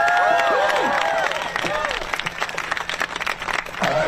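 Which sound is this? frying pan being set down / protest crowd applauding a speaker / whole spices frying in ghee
protest crowd applauding a speaker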